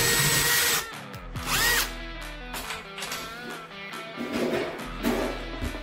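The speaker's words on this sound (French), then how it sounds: "la première étape, ça va être de placer les trous pour les fixations" Power drill boring holes in a wall for the mounting fixings of an Acova Cala Twist Air towel radiator, several loud whirring bursts that rise and cut off with short pauses between, alone without talk.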